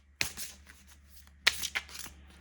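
Tarot cards are shuffled close up, two quick riffling bursts about a second apart, each a crisp flurry of papery flicks, with quiet pauses and a low background hum.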